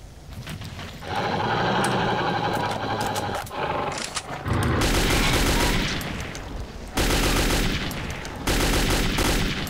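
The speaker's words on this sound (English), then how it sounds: "Took a lot of bullets to kill some of these guys." Automatic gunfire in the PC game Metro 2033 comes in several loud, sustained bursts with brief gaps between them, rapid and close, with no speech.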